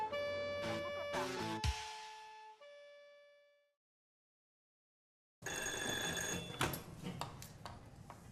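A telephone bell rings at a neighbourhood police station in a Burkinabé TV drama: a loud, bright ringing burst that decays and stops, then a silent gap before a busy, noisy room sound returns.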